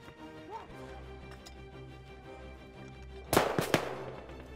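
A sharp burst of rapid gunfire erupts loud and close after a stretch of low rumbling background during a wartime battle scene, several quick cracks clustered together.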